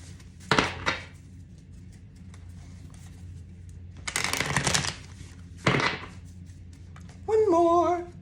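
Several short bursts of hand shuffling from a tarot-style animal spirit card deck, close and fairly quiet, separated by pauses over a low hum, ending with a brief voice.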